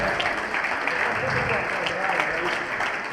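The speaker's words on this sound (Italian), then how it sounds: "Quindi un grande applauso anche a loro" Applause fills the hall at a Serie B1 volleyball match, a steady, dense clatter of clapping that holds at an even level throughout with some crowd noise and a voice mixed in.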